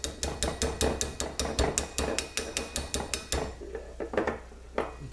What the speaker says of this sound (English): Take the hammer on the plastic.